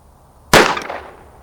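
A single pistol shot rings out during an ammunition test, one sharp, loud crack after a quiet lead-in, followed by a brief echoing decay.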